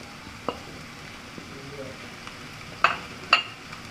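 Cabbage, onion and green chili fry in a pan for beef samosa filling, giving a soft, even hiss broken by two sharp utensil clacks near the end.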